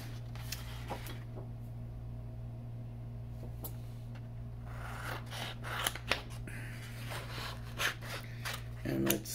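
Scissors snip green paper while making a paper rose, a series of close crisp cuts and paper rustles over a steady background hum.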